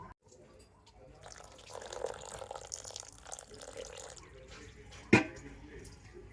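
Cold water is poured into soaked sago in a kitchen pot, a close, gurgling splash that builds and then trails off, with a sharp clink of utensil partway through; no one speaks.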